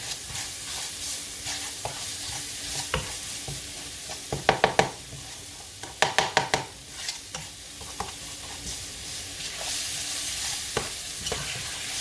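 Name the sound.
vegetables sautéing in oil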